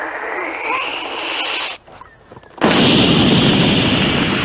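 A cheap water gun modified into a homemade blaster, the secondary gun, fires with a loud burst that sprays steadily for close to two seconds after a brief quieter lull and a short hiss.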